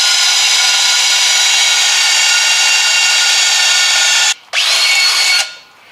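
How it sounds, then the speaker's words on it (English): Power drill boring a hole by hand in a rusted Chevy Chevelle quarter panel: a steady loud high whine lasting several seconds, a brief pause, then another short burst that winds down, close and alone. "I got to drill this hole out first"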